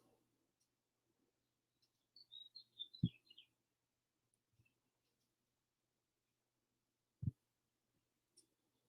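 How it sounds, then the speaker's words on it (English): Birds chirp outdoors on a fine day, a brief cluster of quick high tweets and trills at a moderate distance, with a couple of soft knocks nearby and otherwise a quiet background. "The birds are singing."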